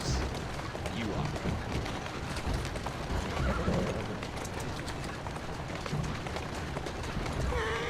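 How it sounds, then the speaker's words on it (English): A horse in Assassin's Creed Syndicate gallops with steady clip-clop hooves and gives a whinny near the end, set against game ambience with a voice talking over it. "Who's a good horse? You are."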